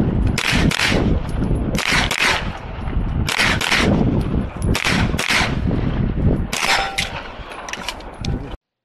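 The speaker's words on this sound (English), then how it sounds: "So my approach here is just to shoot clean and efficient and get all my points." Rapid pistol-caliber carbine shots crack in quick strings at a regional competition, each followed by ringing clangs from steel targets, loud and close with short pauses between bursts.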